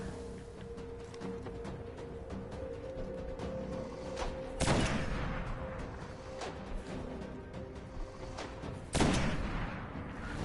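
Gjallarhorn rocket launcher firing in Destiny: two loud, broad blasts several seconds apart, each followed by a rumbling decay, over a constant mechanical game hum.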